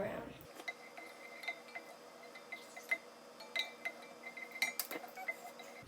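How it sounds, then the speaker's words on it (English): Quiet metallic clinks and scrapes of a spoon stirring heavy cream into penne vodka in a pot, with irregular light taps scattered throughout at close range. "And now I'm going to stir that all around."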